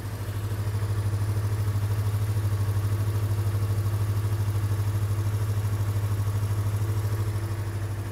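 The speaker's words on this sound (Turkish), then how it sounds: "Rodaj sonrası motorun sesi bu şekilde." A 2020 Yamaha R25 motorcycle engine idles after its break-in period, a steady low hum with even, rapid pulsing heard alone at moderate level throughout.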